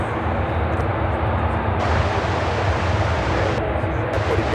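A United Dreamliner airliner arriving at Chicago O'Hare after a flight from Frankfurt, heard as a steady, loud broadband jet roar that holds throughout without a break.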